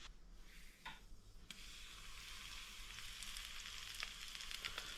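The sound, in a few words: floured octopus frying until crispy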